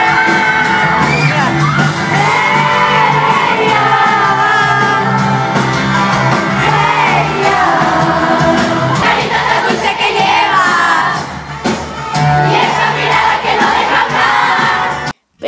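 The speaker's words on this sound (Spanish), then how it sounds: "todas las niñas están gritando como locas" Loud, continuous screaming and shrieking from a crowd of girls at a concert, with whoops and yells over amplified music. It runs throughout and dips briefly near the end.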